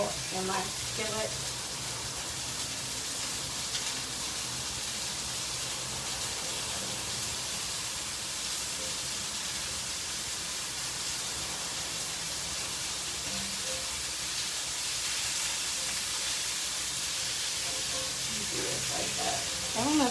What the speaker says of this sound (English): we're just pan searing on each side before we put them in the oven